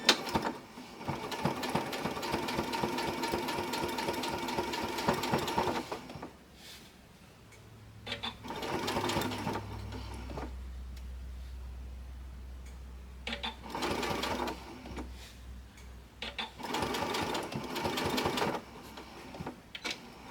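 A sewing machine stitches a stained glass quilt wall hanging in rapid mechanical runs, pausing and restarting several times; during the gaps a low hum and faint handling sounds remain, with no talk.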